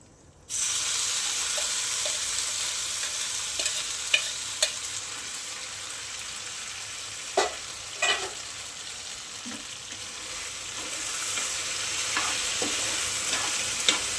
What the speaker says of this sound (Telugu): మళ్ళా మనం చేసుకున్న మ్యాగీని ఇందులో వేయాలి ఫ్రెండ్స్